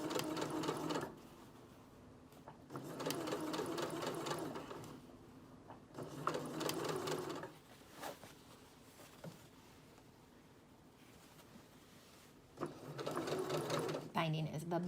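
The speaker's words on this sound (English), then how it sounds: "Normally when I sew binding on, I put it right up there up against the edge" A sewing machine stitches binding onto a dress in three long runs separated by pauses, a close steady mechanical whir, with a person talking in the gaps.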